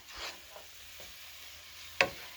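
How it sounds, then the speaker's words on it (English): Soft, steady sizzling of fettuccine Alfredo ingredients frying in a pan, broken by a few scraping stirs and one sharp clatter near the end. "Can you hear that sizzle?"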